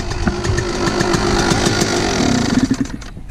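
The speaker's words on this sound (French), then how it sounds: "La chose que je supporte pas trop, c'est le bruit quand tu l'éteins." A motocross dirt bike engine runs rough and loud nearby, then sputters and knocks irregularly as it is switched off, ending in a final clunk.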